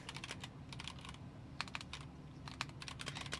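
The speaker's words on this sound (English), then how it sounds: "Oh, you can't see this, but I'm typing into ChatGPT." Someone types a prompt on a computer keyboard, a near, fairly quiet run of irregular key taps in quick bursts with brief pauses, with no voices.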